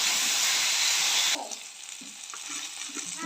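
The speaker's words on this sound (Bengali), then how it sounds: "একই সঙ্গে কাঁঠালের বীজ, আলু সব একসঙ্গে কষিয়ে নেব" Jackfruit seeds and potatoes fry together in a pan with a loud, close sizzle that cuts off abruptly after about a second, leaving a much quieter crackle.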